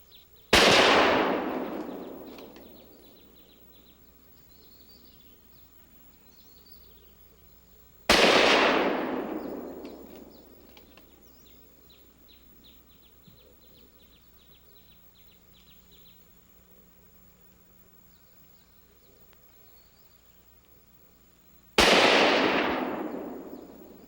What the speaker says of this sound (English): If I hit the jug, the gasoline will explode into a huge fireball.